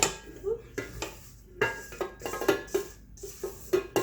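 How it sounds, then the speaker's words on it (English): A spatula scraping down the sides of a mixing bowl of peanut butter cookie dough, a run of irregular knocks, scrapes and clinks against the bowl, close and fairly loud, with no talking. "I'm going to scrape down the sides of the bowl"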